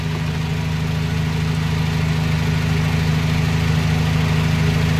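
A Honda Civic FD engine warming up at idle, a steady close hum with an even low throb and faint mechanical whir throughout, no voices.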